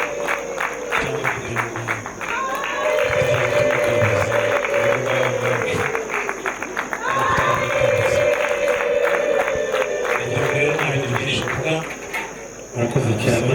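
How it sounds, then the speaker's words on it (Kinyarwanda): A crowd welcomes guests at a celebration with applause and ululation: dense rhythmic clapping runs nearly throughout, with high wavering ululating cries rising over it in repeated waves, loud and close. "tukareba amashyi menshi n'impundu twakira"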